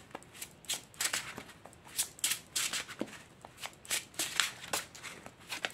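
A deck of Compendium of Witches oracle cards being shuffled, giving repeated soft riffling and slapping bursts at an uneven rhythm, close and alone.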